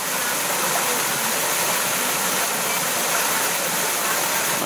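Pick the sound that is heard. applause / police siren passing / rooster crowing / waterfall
waterfall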